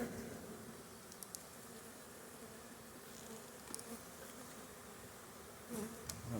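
Honeybees hum around a hive as field bees fly in on a cool, cloudy day, a faint, continuous buzz with a few brief clicks and rustles.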